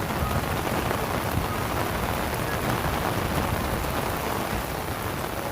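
Heavy rain pours steadily during a thunderstorm in Dadyal, Azad Kashmir, a dense, loud, unbroken roar of drops with a low rumble underneath and no voices.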